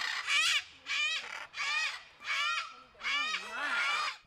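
Parrots at Sierra Safari Zoo give five loud, harsh squawking calls in a steady rhythm, each about half a second long with short gaps, close by and alone.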